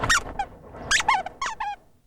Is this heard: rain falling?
no